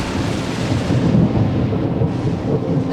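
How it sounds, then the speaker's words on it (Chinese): Thunder rolling with rain, a loud, deep continuous rumble swelling and fading over a wash of falling rain, with no voices. "看这天气啊，又要下雨了。"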